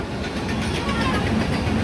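An Indian Railways train passes close by with a loud, steady rumble and rolling wheel noise that fills the whole moment without a break.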